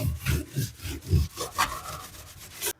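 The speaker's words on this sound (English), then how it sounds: "So just a quick little scrub, get everything I can get off." Grout scrubbed off a tile backsplash, making rhythmic rough rasping strokes, close and fairly loud, repeating back and forth with no talking.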